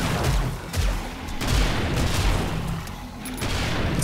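Gunfire from a handgun with seven-shot capacity, fired from the hip in the zombie survival game 7 Days to Die during a horde night, a rapid volley of booming shots and explosions that keeps on without letup.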